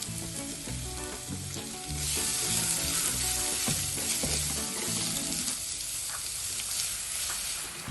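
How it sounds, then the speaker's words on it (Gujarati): Finely chopped onions drop into hot oil with darkened garlic in a pan for a corn and spinach sabzi, giving a loud, dense, continuous sizzle that swells as they go in. "લસણ થોડું ડાર્ક થઈ ગયું છે એટલે એમાં આ 2 ઝીણા કાપેલા છે કાંદા લઈ લઈએ."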